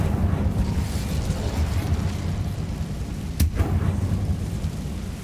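Casting the Incendio fire spell in Hogwarts Legacy produces a rumbling fiery rush with a sharp burst partway through, loud and close over game ambience.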